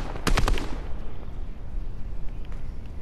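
Fortnite gunfire: a quick cluster of three or four loud, sharp shots right at the start, then fading into a low, noisy game ambience.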